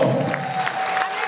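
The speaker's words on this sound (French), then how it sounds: "qu'on applaudit très très fort" An audience applauds at a one-man comedy show, a short burst of dense clapping and cheering over a faint steady tone.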